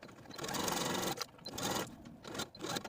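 A sewing machine runs in quick, steady bursts while stitching the bib facing seam of a pair of overalls, the whirring motor pausing briefly between runs.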